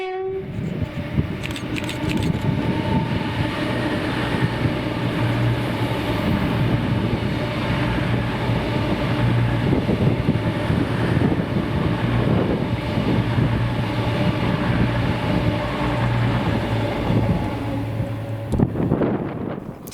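A Class 221 diesel multiple unit, 221 107 with 105, runs the 2S38 Carlisle to Glasgow Central service on the Glasgow South Western route, passing with a sustained loud rumble and a horn note sounding near the start.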